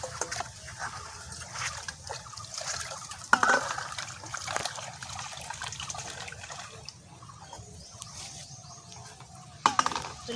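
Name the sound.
washing rohu fish pieces with salt and water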